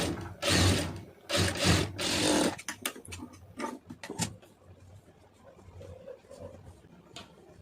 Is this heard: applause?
no